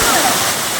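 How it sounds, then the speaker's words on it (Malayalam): Steady rushing splash of an artificial waterfall in the bird park at Ramoji Film City, a continuous close white-noise roar filling the short moment. "അവിടെ തന്നെ ഒരു ആർട്ടിഫിഷ്യൽ വെള്ളച്ചാട്ടമൊക്കെ ഉണ്ട്."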